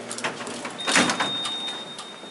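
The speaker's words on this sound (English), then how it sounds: "Now watch this, both doors are gonna open." Doors of a Dover Traction Service elevator at 111 Franklin in Roanoke, VA sliding open, a faint mechanical rumble with a brief louder thump near the middle, heard from close by in a quiet hallway.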